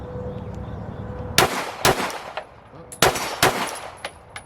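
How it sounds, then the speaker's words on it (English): A Glock pistol fires two quick double-taps, two sharp loud cracks followed after a pause by another close pair, each shot trailed by a brief ringing echo. "Let's try double taps with the Glock."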